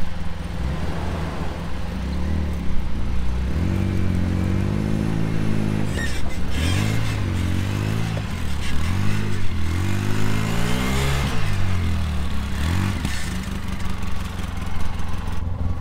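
A Nissan Pathfinder stuck in mud, its engine revving repeatedly in rising and falling surges, loud and close, with an off-road recovery underway and no talk heard.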